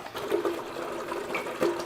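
Water runs steadily through a shower valve to flush debris from the lines after construction work, a continuous close hiss with slight gurgling surges.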